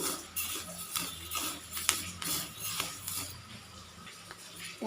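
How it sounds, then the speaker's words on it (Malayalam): Rice dry-roasts in a pan with cardamom seeds and cumin, a spoon scraping and clinking against the metal in a steady rhythm over a soft sizzle. "കൈയെടുക്കാതെ ഒന്ന് വറുത്തേക്കണം ആ ഏലക്കായുടെ കുരുവും ജീരകവും കൂടെ ഇതിൻ്റെ കൂടി ഒന്ന് വറന്ന് വരാൻ"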